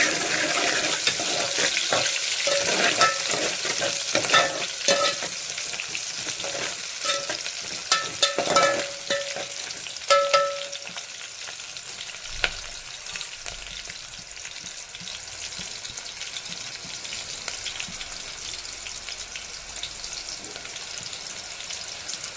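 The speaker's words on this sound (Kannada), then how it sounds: "ಈರುಳ್ಳಿ ಸ್ವಲ್ಪ ಕಂದು ಬಣ್ಣ ಬರೋವರೆಗೂ ಹುರ್ಕೋಬೇಕು" Chopped onions fry in a pan for chicken fry, with a steady sizzle and frequent stirring scrapes and clinks over the first ten seconds, then a softer, continuous frying hiss that carries on alone.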